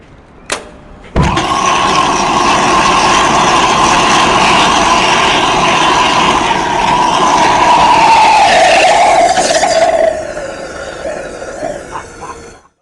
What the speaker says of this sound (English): essentially there's a rocket motor and a jet